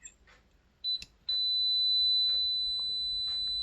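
A multimeter's continuity buzzer gives a short beep and then a steady tone as the probes go forward-biased across a shorted diode from an LG ceiling-mounted multi air-conditioner indoor unit, alone and clear in a quiet room.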